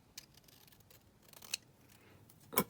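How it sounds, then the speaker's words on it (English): Scissors trim a paper journaling label for a craft pocket kit, with a few soft snips and a sharper, louder cut near the end, close and alone in a quiet room. "So I'll just trim that down."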